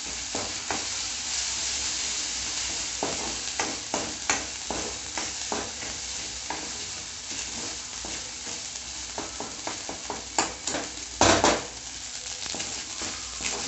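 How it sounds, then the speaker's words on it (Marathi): Coconut, ginger and garlic masala paste sautéing in a pan, a steady close sizzle broken by rhythmic stirring scrapes and a few louder metallic knocks of the spoon, no talk. "आणि हे खोबऱ्याचं वाटण, खोबरं, आलं, लसणाची पेस्ट। हा मसाला चांगला परतून घ्यायचा आहे।"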